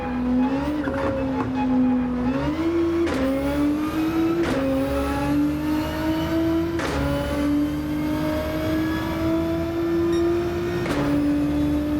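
A Nissan Skyline race car in Gran Turismo drives hard, its engine note climbing steadily through the gears with sharp shift breaks and occasional tire squeal, loud and continuous with no talk.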